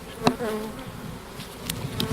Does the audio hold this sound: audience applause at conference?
no